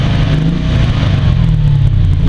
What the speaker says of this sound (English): I want to get an exhaust clip and match it to the V6.